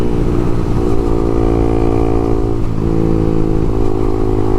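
Honda Twister 250 motorcycle fitted with a LeoVince exhaust, riding in sixth gear with a steady loud engine drone and faint popping crackle from the pipe, continuous and close throughout.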